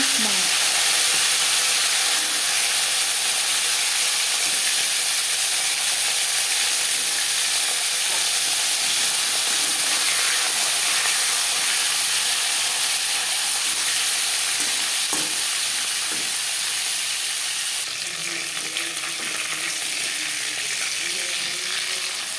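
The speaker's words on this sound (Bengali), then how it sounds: "মাছ একটা সাইজ ভাজা হয়ে গেলে অপর সাইডটা উল্টে দেবে" Marinated hilsa fish fries in hot refined oil with a loud, steady sizzle that carries on unbroken, punctuated by a few soft clinks from the pan.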